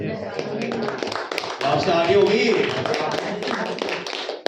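A Hindi-speaking church congregation claps during a sermon, with scattered hand claps running under a preacher's continuing voice.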